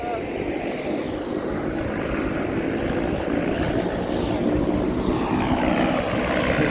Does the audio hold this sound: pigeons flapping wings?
no